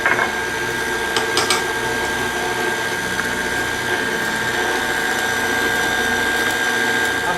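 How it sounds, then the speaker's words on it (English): Electric mixer whirring steadily while creaming shortening, peanut butter and sugars together until fluffy, a continuous motor hum with a few brief clatters near the start. "Now add both sugars and stir until fluffy."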